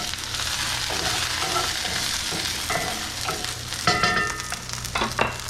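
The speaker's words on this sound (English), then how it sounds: "So we've got our potatoes here cooking again." Potatoes fry in a pan with a steady, loud sizzle, interrupted by occasional scraping and clinking as they are stirred.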